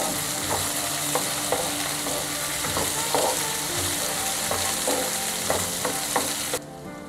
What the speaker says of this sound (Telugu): దీంట్లోకి మనం ఉల్లిపాయలని యాడ్ చేసి ఉల్లిపాయలు హాఫ్ బ్రౌనిష్ కలర్కి వచ్చేంత వరకు వేయిద్దాం